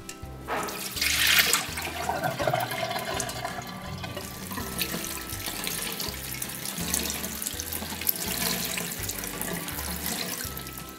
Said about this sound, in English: get the sieve, take it over to the sink and wash it off and drain it